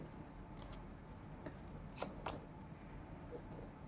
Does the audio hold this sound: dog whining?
no